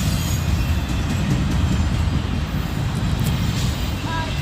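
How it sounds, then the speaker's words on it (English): A Kansas City Southern container freight train rolls past close by, a loud, steady rumble of wheels and cars with faint high squeals over the top for the whole stretch. "Kansas City Southern shipping container train here, I suppose."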